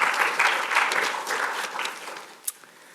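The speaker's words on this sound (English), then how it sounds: "if we could have a round of applause" A crowd claps steadily at a lecture for the Coral Courts series, the applause fading toward the end with a single sharp sound near the close.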